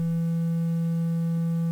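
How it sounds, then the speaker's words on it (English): A steady triangle-wave tone from the timbral oscillator of a Serge modular synthesizer, holding one pitch with faint overtones, continuous and fairly loud throughout with no voices. "That's what a triangle wave looks like."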